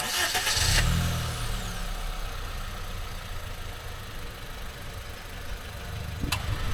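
A Honda Amaze V 1.2 litre petrol engine cranks and catches with a brief surge, then quickly settles into a smooth, quiet, steady idle heard close up, with one short click near the end.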